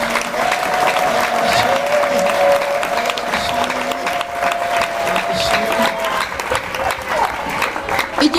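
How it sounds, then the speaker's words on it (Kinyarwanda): A church congregation claps steadily and loudly for a sustained stretch while a voice carries on over the applause. "Ongera mwimire amashyi cyane Imana."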